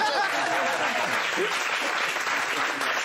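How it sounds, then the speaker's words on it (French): Studio audience applause on a French comedy show, loud and sustained dense clapping filling the whole moment, with faint voices mixed in. "je vous demande de l'applaudir"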